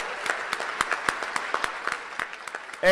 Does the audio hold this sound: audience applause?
yes